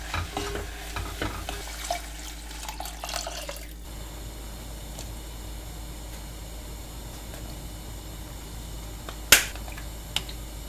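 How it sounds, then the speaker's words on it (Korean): Green onion, garlic and meat stir-fried for gochujang stew, with a few seconds of busy scraping and sizzling up front that settles into a low steady hiss, then a sharp clack near the end. "오늘은 고추기름 내지 않고 일단은 파 마늘 고기 볶다가 물 넣고"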